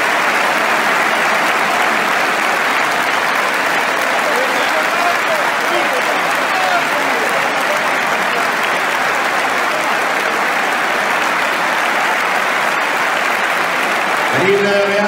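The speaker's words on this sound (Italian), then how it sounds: "ci sono gli applausi dello stadium" Juventus stadium crowd applauding Cristiano Ronaldo, a loud, dense, sustained roar of clapping across the whole stands, unbroken from start to finish.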